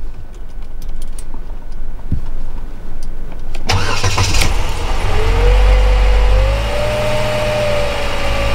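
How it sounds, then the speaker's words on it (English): A car with a recurring dashboard warning-light fault cranks and fires after a quiet cabin stretch, catching loudly and settling into a steady close idle with a faint rising whine. "I'm gonna start the car"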